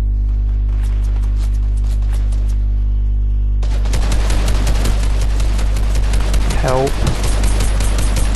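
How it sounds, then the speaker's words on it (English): Gunfire in Fortnite during a ranked squads match: after a low steady hum with faint taps, rapid bursts of shots erupt and continue densely, loud and close, with a sweeping tone passing through. "Who's shooting at me?"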